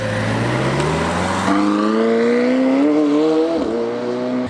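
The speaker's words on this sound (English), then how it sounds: "this is Lee's new 720S" A McLaren 720S sports car engine revs and climbs in pitch with strong harmonics, loud and close, briefly dipping before rising again.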